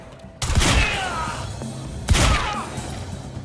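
Gunfire in the video game Quantum Break: two loud sharp bursts about a second and a half apart, each trailing off into a ringing echo over a steady game background.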